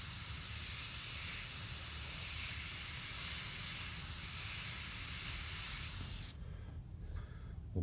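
An airbrush spraying paint onto a shark painting gives a steady, close, broadband hiss that runs unbroken for about six seconds and then cuts off abruptly, leaving faint room noise.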